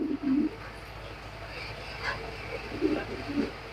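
A male racing pigeon coos in a few low, throaty bursts, near and fairly loud, with a quieter stretch between the calls.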